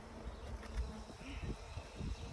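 Honey bees buzz around an open Langstroth hive during an inspection, a steady low drone with some brief louder swells from bees passing nearby, heard alone.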